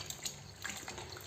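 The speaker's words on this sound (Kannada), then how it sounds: "ಇದು 4ನೇ ಟೈಮ್ಗೆ ನಾನು ವಾಶ್ ಮಾಡ್ತಾಯಿದ್ದೀನಿ" Cut bamboo shoots being rinsed and washed in a vessel of water, a soft continuous splashing and trickling with small sloshes, near and fairly quiet, no talking.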